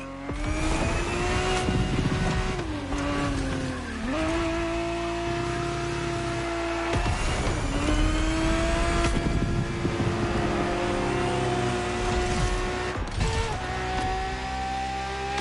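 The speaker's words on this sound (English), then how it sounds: "The Ferrari 365 GTB4 is the perfect vehicle for you to experience Ferrari racing as it felt back in the 70s." A Ferrari 365 GTB4 driven in a racing video game, its engine revving hard and climbing through gears with several sharp shifts and drops in pitch, loud and continuous, with occasional tire squeal.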